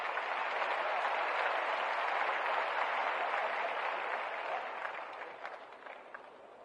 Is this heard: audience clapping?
yes